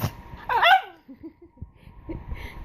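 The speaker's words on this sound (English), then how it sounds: "Oh, my sneezing puppy." A Cavalier King Charles Spaniel gives a quick, close sneeze, then a few small snorts and snuffles follow in a quiet room.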